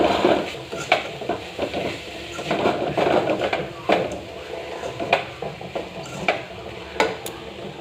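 A coconut and jaggery filling for Poush Sankranti pithe is worked in a vessel, producing repeated close scraping and stirring strokes with pot and utensil clatter in an irregular rhythm.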